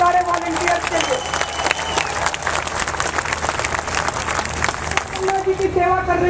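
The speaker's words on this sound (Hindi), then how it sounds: "एक बार जोरदार तालियों के साथ सारे वॉलंटियर्स के लिए।" Loud applause from a large crowd for the volunteers at an Anna Hazare event: dense, sustained clapping close and full, with crowd murmur and a voice speaking over it.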